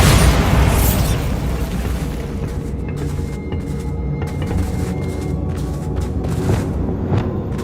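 A Bombarda spell explosion in the Hogwarts Legacy video game opens with a loud booming blast, then trails into a dense, rumbling roar of debris and crackle that fades slowly, with faint pops scattered through the tail.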